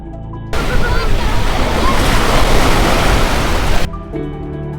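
Beach waves wash in a broad, loud, steady surge for about three seconds as menu ambience for a Unity 2D video game, with soft tonal music faintly audible just before and after.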